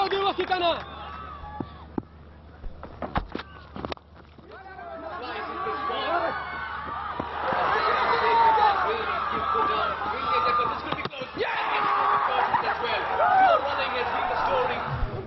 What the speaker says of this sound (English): And the cheer in the dugout.